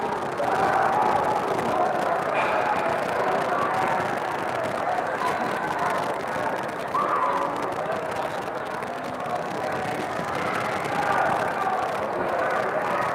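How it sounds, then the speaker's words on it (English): Crowd at a high school hockey game, John Paul II versus Norwell on Cape Cod, murmuring with annoyance as a broad, steady rumble of many voices filling the arena throughout. "Now the John Paul II crowd is a little annoyed."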